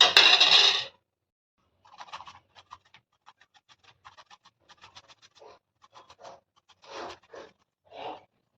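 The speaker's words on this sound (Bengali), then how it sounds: "এবার এরই ওপরে আমি আদাটা রসুনটা একটু গ্রেট করে নেব" Ginger and garlic are grated for raw banana fritters: a short louder rasp opens, then a quiet, irregular series of brief scraping strokes follows, close by.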